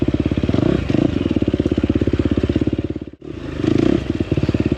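A 2024 KTM 250XCF dirt bike revs hard climbing loose shale rock, its engine a loud, close, rapid pulsing drone that dips briefly near the end before surging again, with rocks clattering under the tires.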